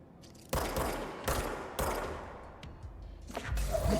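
Gunshots ring out in the video game Control as three sharp, loud reports spaced roughly a second apart, each with a brief echoing tail, followed by softer clatter and a final burst.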